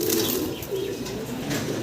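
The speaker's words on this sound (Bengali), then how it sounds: "খুব চঞ্চল দেখতে পারতেছেন কবুতরগুলো" Restless pigeons shuffle and flap briefly, with soft cooing and wing flutters close by in a short, busy burst.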